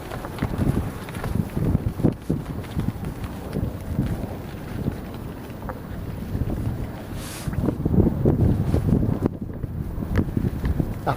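A lateen sail on a boat flaps and snaps in strong wind, with ragged rustling gusts and wind buffeting the microphone over the sound of water.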